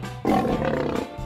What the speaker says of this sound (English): A lion does roar.